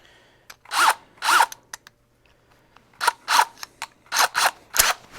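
A power drill bores a hole for an antler mount screw, with several short bursts of whirring near the mic and brief pauses and small clicks between them.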